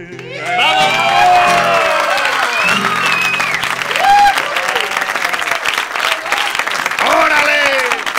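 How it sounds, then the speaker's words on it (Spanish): A studio audience at a comedy show breaks into loud applause with cheers and whoops for a performer named Rafa, swelling after the first second and holding strong to the end, with voices shouting over the clapping. "un aplauso para Rafa"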